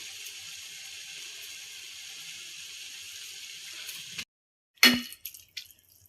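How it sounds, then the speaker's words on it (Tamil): Water pours in a steady, hissing stream into a pan of semiya as it cooks, running for about four seconds before stopping abruptly, followed by a few sharp clinks and knocks of a utensil. "தண்ணி ஊற்றி கொஞ்சம் நல்லா கலக்கிட்டு"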